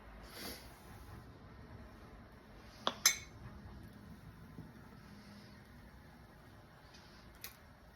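A spoon slowly stirs a pot of Thai soup thickened with cornstarch, giving a few light metallic clinks over a faint, quiet background hum.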